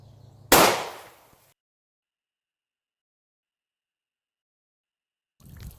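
A Glock 27 pistol with a 3.5 inch barrel fires a single .40 S&W jacketed hollow point round, one sharp loud report with a short decaying tail, then silence.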